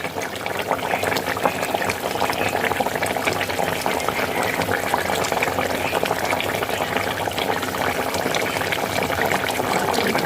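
Meat, country chicken, simmering in a pressure cooker, a steady dense bubbling and boiling that stays loud and unbroken throughout, with no voices.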